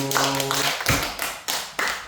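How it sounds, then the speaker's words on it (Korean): Children at a Sunday school service clap in praise, a series of sharp, distinct hand claps in an uneven rhythm, close and fairly loud, with a voice briefly heard at the start. "우리 박수로 하나님께 영광 올려드립니다"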